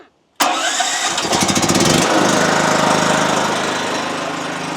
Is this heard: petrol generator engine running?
yes